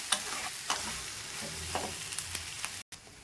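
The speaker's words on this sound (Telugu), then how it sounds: "2 మినిట్స్ మనకి ఫ్రై అయిపోతుందండి" Chicken pieces frying in oil in a pan: a quiet, steady sizzle with intermittent spatula scrapes and small crackles, a brief dropout near the end.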